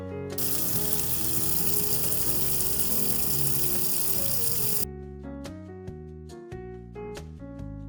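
Freshly peeled vegetables are rinsed under a running kitchen tap: a steady gush of water for about five seconds, then it stops, with tuneful background music playing throughout.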